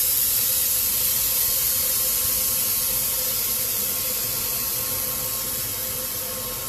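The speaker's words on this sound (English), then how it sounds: "So I'll release the pressure." Steady broadband hiss of steam venting from a pressure cooker of moong dal, continuous and fairly loud, easing slightly toward the end with no pauses.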